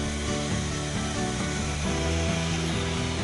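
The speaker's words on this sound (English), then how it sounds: "the precision and ease of making bevel cuts with the Festool system and the TS-75 saw" A Festool TS-75 plunge-cut saw running along its guide rail while making a bevel cut, a loud, steady motor whine with blade drone holding continuously throughout.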